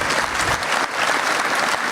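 Dense, loud applause from a conference audience at an Industry 4.0 expert panel debate, a continuous wash of many hands clapping at once with no gaps, heard alone for the whole stretch.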